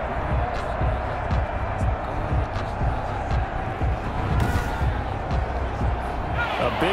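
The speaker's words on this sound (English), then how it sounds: "That just means this crowd's going to get even louder" A roaring stadium crowd fills an American football video game, a continuous loud wash of cheering and noise with faint thumps throughout.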